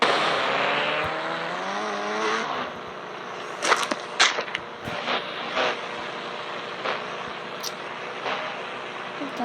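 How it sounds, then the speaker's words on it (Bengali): A powerful motorbike in the Indian Bike Driving 3D video game revs with a rising engine pitch, then settles into a steady, close drone broken by scattered skids and brief impacts. "এখন আমাদের পাওয়ারফুল বাইকটা নিয়ে"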